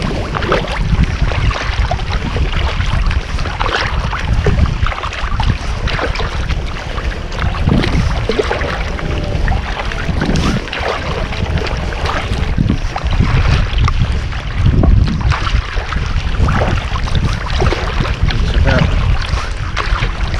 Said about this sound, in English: Waves, man. I would say waves.